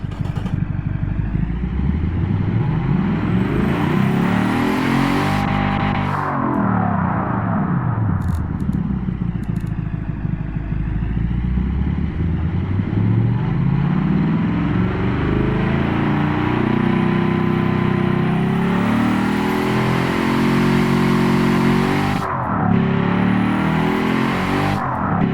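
Turbocharged V8 engine from the car-building game Automation, revving continuously with rising and falling pitch sweeps, loud and close with no voices over it.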